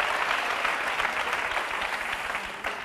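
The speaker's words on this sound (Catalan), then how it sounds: "Molt bé, un fort aplaudiment, s'ho saben." Studio audience applause on a Catalan TV game show, a dense, continuous burst of clapping from a crowd that eases slightly toward the end.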